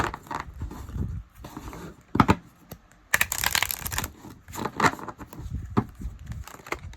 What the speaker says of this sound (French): Je bats les cartes, quand elles tombent, on lance la lecture du paquet.